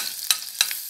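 Butter melts in a pan as the base for a béchamel sauce, giving a soft, continuous sizzle broken by two brief, sharp stirring scrapes.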